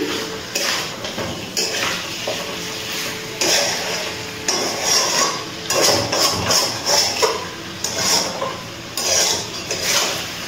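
A spoon scrapes and knocks against a pan while chicken and potato curry with slit green chillies is stirred, producing repeated close metallic clanks and scrapes in an irregular rhythm.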